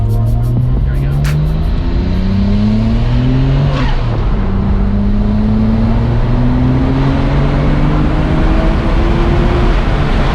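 A Nissan Skyline GT-R with an RB26DETT engine and HKS Step 1 VCAM accelerates hard, its loud engine note climbing steadily through a gear change and pulling up again, heard from inside the car with a brief voice early on.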